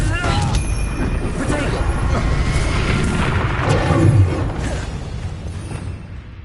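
In Hogwarts Legacy, the Confringo blasting spell sets off deep booming explosions, one big blast swelling near the end, set within a dense wash of battle noise and effects with spoken voices.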